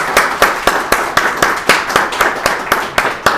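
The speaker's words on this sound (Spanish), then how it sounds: "les pedimos un fuerte aplauso para nuestro invitado" Applause for a guest lecturer ending a university seminar on mural and urban art, a small group clapping in a fairly even, quick rhythm of sharp individual claps, close and moderately loud, with no talk.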